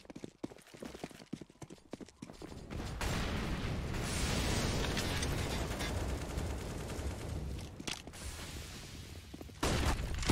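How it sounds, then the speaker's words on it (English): Pistol fire crackles in a Counter-Strike match on the map Nuke: a dense flurry of sharp shots at the start, then a steady rumble of game action with occasional single shots. "Quick hit out from the pistols, going around and do as much damage as they possibly can"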